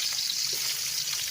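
Garlic sautéing in a pan makes a steady, close hiss of oil sizzling with fine crackles and no break.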